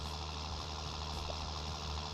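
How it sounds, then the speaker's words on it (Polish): A tractor engine in Farming Simulator 19 labours uphill with a dense, constant, rumbling drone that stays loud and even throughout, with no talking. "już jesteśmy praktycznie na górze, a jednak ciągnik się męczy"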